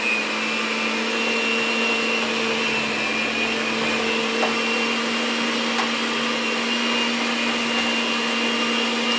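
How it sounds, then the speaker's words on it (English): Steady, loud electric mixer whir blending sweet potato pie filling, a constant motor drone with a high whine that holds evenly throughout without pauses or talking. "now I'm going to mix all this together."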